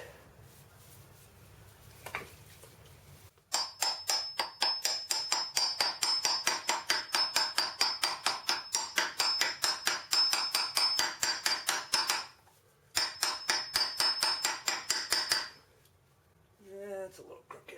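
A socket is tapped with a hammer to drive a manual transmission output seal into a 1999 GMC Sonoma. Rapid metallic taps come close and loud in a long, fast burst, pause briefly, then continue in a shorter burst.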